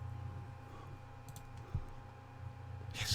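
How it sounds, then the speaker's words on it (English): A cat walks across a computer keyboard, leaving a few sparse, soft key clicks over a low, steady room hum. "He's been walking on the keyboard."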